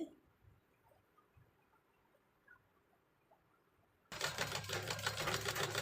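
A sewing machine stitching along a dress border starts after a quiet stretch of faint handling taps, then runs as a loud, rapid, continuous mechanical chatter to the end.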